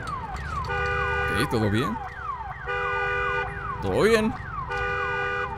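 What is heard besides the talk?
car alarm sounding in the video game Days Gone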